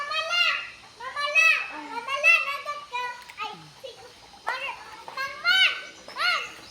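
Children shout and play noisily at a resort with cottages and a pool, their high excited voices overlapping in bursts throughout, close and lively.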